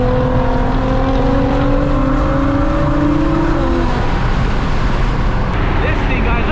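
Road noise from a car interior with a small car nearby spitting flames, its exhaust droning with wavering tones that fade, while a voice talks throughout.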